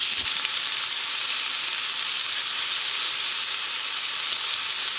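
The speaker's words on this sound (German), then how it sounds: "Und in die heiße Pfanne unser 200 Gramm Patty." A 200 gram beef burger patty sizzles in a hot pan, a loud, steady, close hiss of frying that runs unbroken throughout with no voices.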